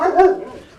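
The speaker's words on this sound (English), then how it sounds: "Sorry about the dog barking." An excited dog gives a single loud, close bark with a whiny tone in a home, while someone speaks briefly.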